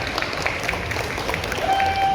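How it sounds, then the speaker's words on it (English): Audience at a comic con Mortal Kombat panel applauding the crew, a short burst of steady clapping from a room full of people, fairly close and even throughout. "another round of applause for our Mortal Kombat crew"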